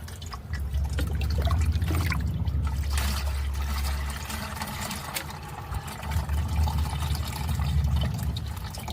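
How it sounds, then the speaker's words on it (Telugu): Kitchen waste water is poured through a sieve, making a steady trickling and splashing with a low rumbling undertone. The flow surges slightly at the start and again near the end, and no one speaks. "ఈ వాటర్ని మొత్తం మనం ఇలా జల్లిలో వేసుకోవాలి"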